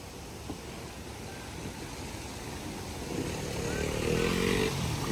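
A motorcycle rides over rocky, wet ground, its engine a low mid-distance drone that swells and grows louder toward the end over a constant outdoor background.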